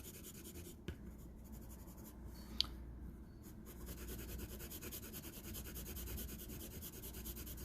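Pencil strokes rub across paper while rendering surfaces of an isometric sketch, a soft steady scratchy texture close up with a couple of faint taps, no talking.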